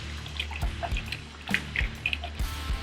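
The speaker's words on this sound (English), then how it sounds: "I'm just going to mix that up just a little bit" A yeast mixture stirred in a cup for homemade mead, giving soft scattered clinks and liquid drips at an irregular rhythm, close and fairly quiet.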